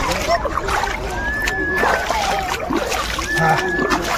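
Water splashes and sloshes while people bathe at Gangasagar in West Bengal, mixed with a busy crowd of voices and chatter close by.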